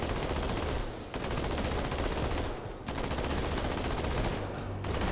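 Allied soldiers firing guns in Halo 2 Anniversary, dense rapid automatic gunfire in sustained bursts with brief gaps, loud and close, with no talking.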